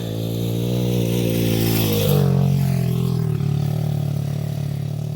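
A dirt bike engine on country trails runs loud and close throughout, its steady drone shifting pitch a little partway through as the rider changes speed.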